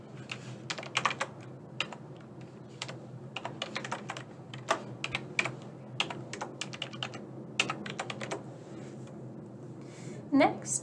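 Typing on a computer keyboard while filling in an online nursing program application form, with irregular bursts of close, crisp key clicks and occasional pauses, heard beneath a person talking.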